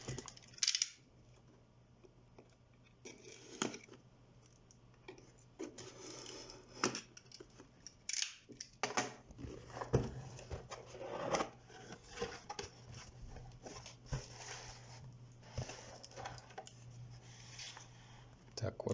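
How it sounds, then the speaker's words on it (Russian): A boxed HyperX Alloy FPS RGB keyboard with a small dent in its box is being unpacked: quiet rustling, cardboard scrapes and scattered clicks and taps, close up, with a voice speaking now and then. "Итак, будем распаковывать."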